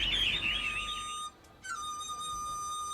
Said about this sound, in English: A favorite local pastime is taking pet birds to the park and listening to them sing.